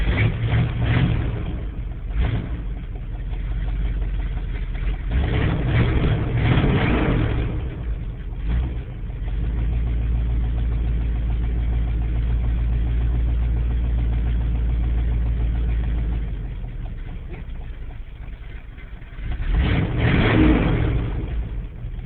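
A Chevy 400 engine in a K10 truck runs steadily with a low, rumbling idle, swelling in several revving surges before settling.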